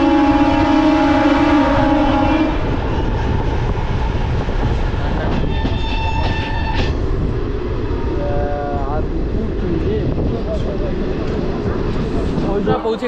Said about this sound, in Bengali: ট্রেন এসে দাঁড়ালো পান্ডুয়া।